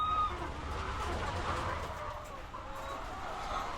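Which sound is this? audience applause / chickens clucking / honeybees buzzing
chickens clucking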